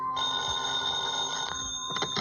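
An old-time radio detective drama's telephone rings in a steady, continuous electric bell tone, loud and close, with a brief break near the end before the ringing resumes.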